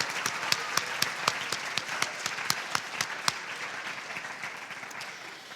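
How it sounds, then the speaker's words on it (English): Audience applause at a high school poetry recitation competition, a steady wash of many hands with sharper individual claps standing out, fading slightly toward the end. "So let's give them a round of applause."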